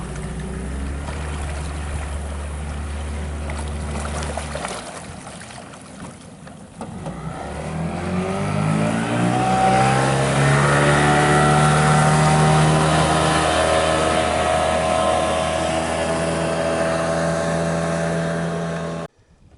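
A motorboat engine drones steadily, rising in pitch as it speeds up and then holding a loud, sustained roar until it cuts off abruptly.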